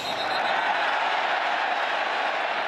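Stadium crowd roaring in a steady, sustained wash at a Baylor vs. Kansas State college football game, reacting after a fair catch as fans call for a late hit.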